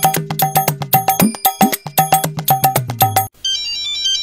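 Electronic phone ringtone trilling in a steady repeating rhythm of short bursts, loud and close, then cutting off as a call connects.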